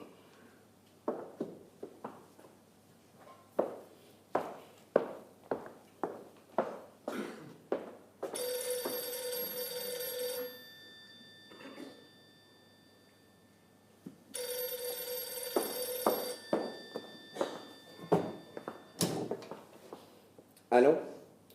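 An old-style telephone bell rings in two long bursts, separated by a gap, amid intermittent sharp knocks and footsteps in an indoor stage setting; people talk before and between the rings.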